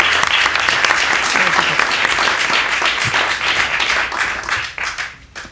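Audience applause fills a room at a Spanish-language panel event, dense and steady clapping that holds loud for about five seconds before thinning out and fading at the end.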